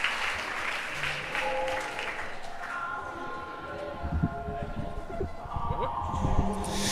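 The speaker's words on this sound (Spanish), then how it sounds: "fuerte aplauso pues para la última edición del Poetry Slam de esta temporada" Audience clapping at a poetry slam in Iruñea fades over several seconds, giving way to voices and stage murmur near the end.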